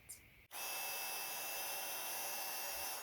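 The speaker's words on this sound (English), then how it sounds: "And then I can transfer more embossing powder onto them and reheat emboss it." An embossing heat tool reheats embossing powder on a birthday card, switching on after a brief pause into a loud, steady, airy whir that holds close and constant until it cuts off.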